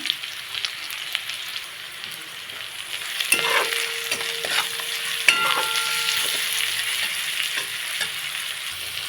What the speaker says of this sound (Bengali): সব কিছু একটু ভাজা ভাজা হয়ে গেছে